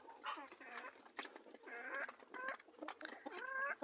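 Backyard chickens and growing chicks cluck and call in repeated short bursts, fairly close and clear against a quiet background.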